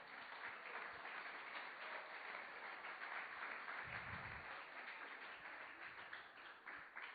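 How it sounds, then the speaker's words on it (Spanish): Applause from a church congregation during a Spanish-language sermon, a steady wash of clapping filling the space for about seven seconds. "Dele un fuerte aplauso al Señor entonces."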